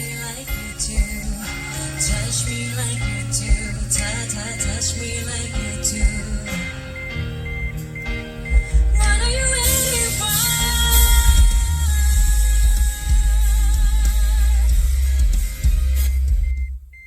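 Music plays loudly and continuously from a 7-inch Android head unit in an Isuzu D-Max, building from melodic layers into a heavy, booming bass-driven section with bright highs.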